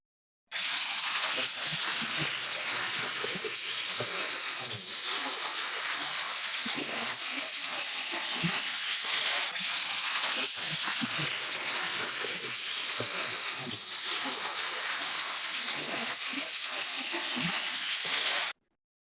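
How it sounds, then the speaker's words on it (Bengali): Homemade roti of local white wheat flour fries on a hot pan, giving a steady, loud broadband hiss and sizzle that runs unbroken for the whole stretch, with faint scraping bumps underneath and no talk. "এ ছিল আজকে আমার রুটি ভাজা।"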